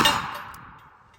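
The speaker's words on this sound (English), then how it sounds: "All right, last shot." A single sharp report from a Ruger GP100 revolver chambered in 10mm firing .40 S&W rounds, a bright loud crack at the start that decays quickly into a short fading ring.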